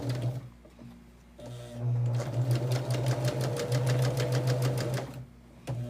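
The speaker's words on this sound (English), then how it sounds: "take it to our machine, and we're going to do that final seam for this block" A sewing machine stitching the last seam of a quilt block, starting with a short burst, pausing, then running in a fast, even rapid-fire rattle for several seconds before stopping, close and fairly loud.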